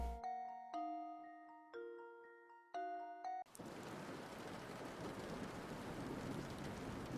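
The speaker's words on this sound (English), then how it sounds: "Oh boy, it's raining." Rain falls steadily, a broad, even wash of patter that starts abruptly after a few chiming doorbell-like tones and continues moderately loud to the end.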